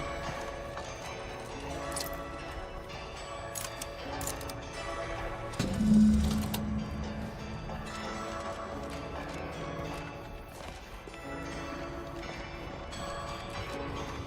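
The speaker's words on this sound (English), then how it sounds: "Dear gods, the bells are annoying as fuck" Bells ring in The Outer Worlds 2 video game, with repeated metallic strikes and lingering tones over a quiet game ambience. One louder, fuller swell comes midway.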